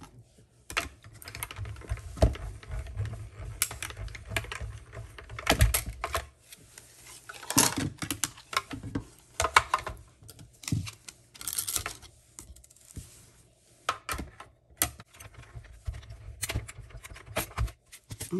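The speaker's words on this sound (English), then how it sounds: "So let's get our mini Stampin' and Cutting Emboss machine out, the Baby Boss." A Stampin' Up! Mini Cut & Emboss machine, the Baby Boss, cranks dies through in bursts of clicking, ratcheting clatter, close and fairly quiet, with short pauses between passes.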